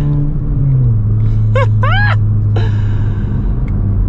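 The muffler-less exhaust of a Mk4 VW Bora wagon drops from a higher rev and settles into a loud, close, steady rumble, while a few brief squeaky chirps cut in over the engine.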